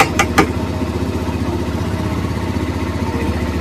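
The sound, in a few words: motorcycle (super bike) engine running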